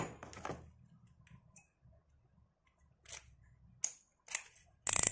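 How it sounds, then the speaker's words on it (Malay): The clicker of a Sougayilang FH1000 budget spinning fishing reel gives sharp, sparse ticks and clicks, a few close bright snaps spaced irregularly amid quiet handling noise. "Nyaring sikit eh dia punya clicker."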